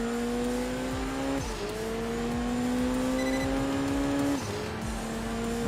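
Turbocharged race car engine in the Enthusia Professional Racing video game, a steady loud drone with a rising pitch that dips sharply at two gear shifts, heard alone.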